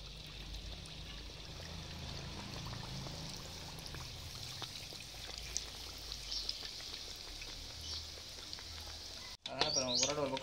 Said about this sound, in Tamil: இப்போ வந்து இதை நம்ம எண்ணெயில் போட்டு பொரிச்சு எடுக்கலாம்.